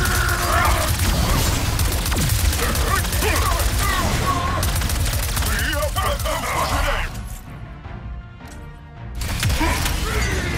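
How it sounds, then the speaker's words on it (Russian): Heavy weapons fire in the video game Ratchet & Clank: Rift Apart, a loud dense barrage of booming shots and mechanical clatter over game effects, easing to a brief lull near the end before resuming. "Наконец взялись за большие пушки, да?"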